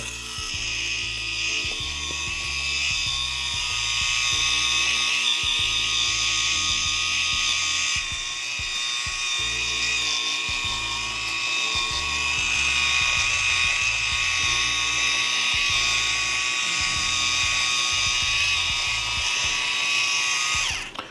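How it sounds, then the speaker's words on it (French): An electric rotating facial cleansing brush spins against a wet face, a steady high-pitched whirring motor hum with shifting low rubbing noises as it moves, close and continuous. "ce genre de brosse, utilisez-la seulement 1 fois par semaine. Je l'ai déjà dit dans plein de vidéos, elle tourne vachement vite"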